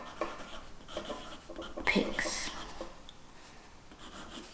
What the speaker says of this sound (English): And here I'm going to write Olympics